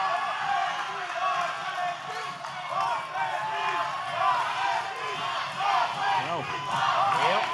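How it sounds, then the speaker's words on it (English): Wrestling crowd at an OVW event roaring and chanting in unison, a loud, sustained mass of voices with rising swells, while a voice talks over it. "the crowd chants boss baby now"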